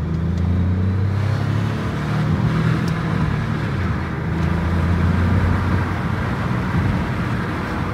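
Peugeot 208 PureTech car accelerating hard on a fast merging road, a steady loud engine drone with a low rumble and road noise, heard from inside the car without talk.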